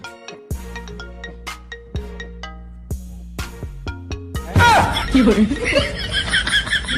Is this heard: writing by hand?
no